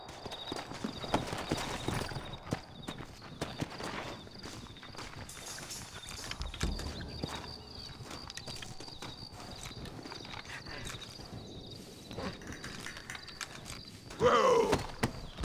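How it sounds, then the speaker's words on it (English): Horses' hooves clip-clop steadily in the Red Dead Redemption video game, a continuous walking rhythm of hoofbeats with no speech, ending in a louder burst near the close. "Looks like Carlos left us some horses."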